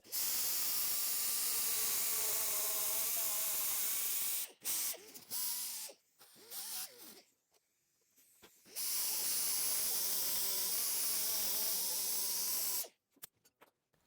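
An angle grinder cleans up bare car body metal during a DIY paint job with a loud, hissing, high-pitched whine, running steadily for several seconds, breaking into short stuttering bursts, then running steadily again before cutting off.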